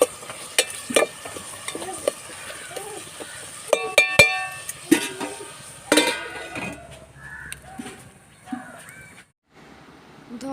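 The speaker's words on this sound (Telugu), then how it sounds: "వాటిలోకి చట్నీ కోసం పల్లీలు వేయించుకుంటున్నాను" Peanuts dry-roasting in a pan for chutney, with irregular stirring scrapes and light rattles of metal utensils, a few sharp clinks and brief voices in a home kitchen.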